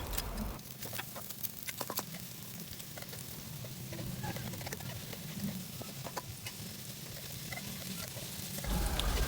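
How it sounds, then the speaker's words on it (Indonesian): Shallots and garlic are sautéed in a pan, giving a soft continuous sizzle with small crackles and stirring scrapes, close and fairly quiet, and nobody talks. "bawang merah, bawang putihnya ini kita tumis dulu sampai dia layu dan tercium wanginya"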